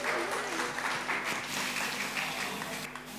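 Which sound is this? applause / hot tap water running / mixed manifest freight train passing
applause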